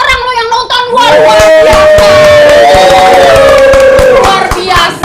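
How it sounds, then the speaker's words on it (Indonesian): Loud, continuous crowd noise from a large audience, with cheering voices and scattered clapping running throughout, a sustained shouted tone rising over the din. "Tepuk tangan, tepuk tangan."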